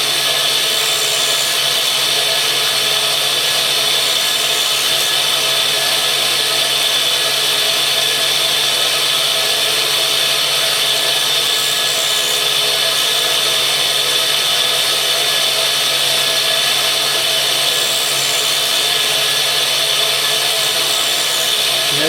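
A 60 grit grinding wheel works a steel centre punch by hand, giving a loud, continuous, unbroken grinding hiss that holds steady throughout without pause.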